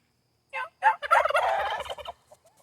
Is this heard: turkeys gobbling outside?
yes